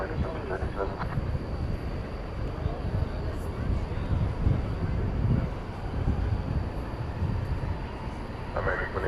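An American Airlines Airbus A321 rumbles in a steady low roar on takeoff at night, bound for Salt Lake City, with faint radio chatter breaking in at the start and end.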